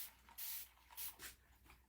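Acorn Precision Piecing spray is pumped onto fabric in three short hissing bursts, close and fairly soft, with quiet gaps between them and no talk.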